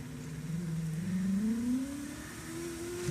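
A power window motor in a 2010 Nissan Altima Coupe strains as the glass travels upward, a steady whining hum that slowly rises in pitch over a few seconds, close by with no talking.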